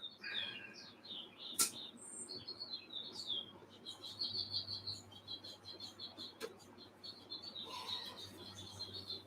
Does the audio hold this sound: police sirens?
no